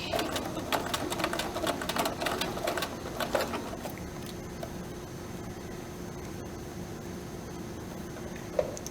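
A sewing machine runs a burst of quick, even stitches through fabric at a default 2.4 stitch length, loud and close for about four seconds, then stops, leaving low room hum and a single faint click near the end.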